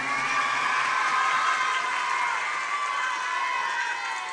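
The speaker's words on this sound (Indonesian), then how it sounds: "Tepuk tangan anak-anak untuk Bupati kita yang keren." A crowd of children at a Quran school (TPQ) thanksgiving gathering and religious sermon cheers and shouts in a loud, sustained roar that holds steady throughout, with no distinct voice standing out.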